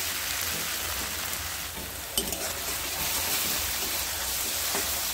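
Onion and green chilli paste fries in a pan with tomato paste just added, a steady soft sizzle with faint stirring scrapes and one brief clink, continuous and close.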